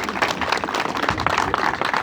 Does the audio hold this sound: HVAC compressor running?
no